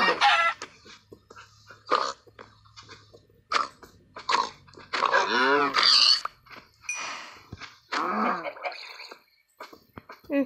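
Chickens in the video game Minecraft give a series of short, sharp clucks and squawks in irregular bursts separated by brief quiet gaps.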